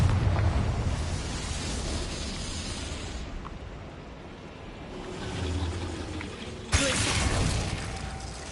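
Confringo fire spell blasting in Hogwarts Legacy: a rumbling, crackling explosion that swells and fades, then a sharp second burst near the end, loud and close with game ambience underneath.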